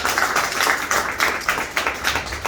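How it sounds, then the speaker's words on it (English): An audience at a mentalism stage show gives a round of applause, a steady wash of clapping with rhythmic swells that carries on without any voices over it. "Everyone give Nikki a round of applause, please"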